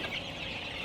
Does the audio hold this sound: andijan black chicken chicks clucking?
yes